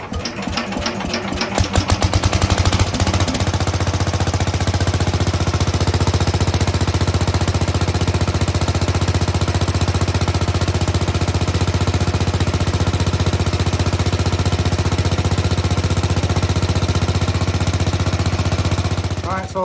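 A Sears Suburban 15 garden tractor engine, just repaired with a new fuel pump, cranks with a few sputters and then settles into a loud, steady running drone close by, with no talk.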